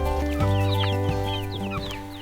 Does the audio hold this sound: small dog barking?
no